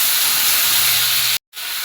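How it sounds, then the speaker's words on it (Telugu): Ginger garlic paste with turmeric fries in hot oil for a spicy chicken fry, giving a loud, steady close-up sizzling hiss that cuts out briefly near the end before resuming. "అల్లం వెల్లుల్లిపాయ పేస్ట్ పచ్చివాసన పోయేంత వరకు ఫ్రై చేయాలి."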